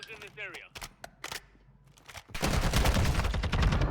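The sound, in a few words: gunfire in a video game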